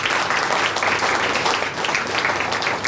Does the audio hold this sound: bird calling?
no